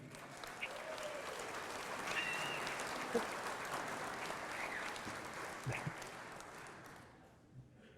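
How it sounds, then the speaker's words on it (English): Audience applause for a Hartnell College Hall of Fame inductee at the 2023 ceremony: sustained clapping from a room of people that swells, holds for several seconds, then tapers off into scattered claps. "A nice round of applause for Gerhard Kisling."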